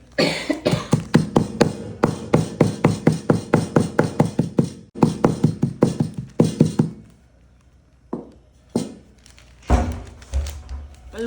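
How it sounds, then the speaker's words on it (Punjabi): A substance wrapped in newspaper is pounded into powder, with a long run of steady, rapid, loud thuds close by. A pause follows, then a few slower, separate blows. "ਅਖਬਾਰ ਦੇ ਵਿੱਚ ਰੱਖ ਕੇ ਆਪਾਂ ਪੀਸ ਲੈਨੇ ਆ ਇਸ ਤਰ੍ਹਾਂ ਕਰਕੇ ਆਪਾਂ ਇਹਨੂੰ ਕੁੱਟ ਲੈਨੇ ਆ"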